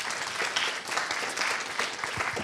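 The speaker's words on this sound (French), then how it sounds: "on peut applaudir nos orateurs" Audience applause for speakers at a medical round-table session on AL amyloidosis, a dense, steady roll of many hands clapping in a room from start to end.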